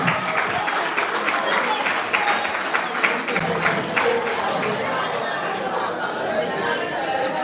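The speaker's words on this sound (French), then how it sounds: "On applaudit, on applaudit." An audience at a youth conference claps, with sustained applause mixed with crowd chatter and cheering that gradually thins into murmuring voices.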